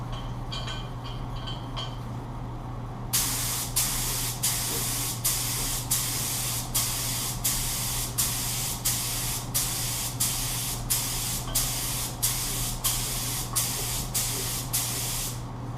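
Spray gun laying down silver chromium paint in a series of about a dozen steady, evenly spaced bursts of loud close hiss, following a few seconds of quieter hum at the start.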